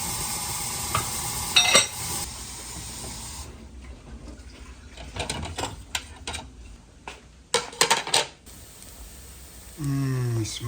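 Homemade potato pancakes fry in hot olive oil, a steady sizzle broken by scraping and clattering handling sounds, with a loud burst of spitting oil near the end as more batter hits the pan.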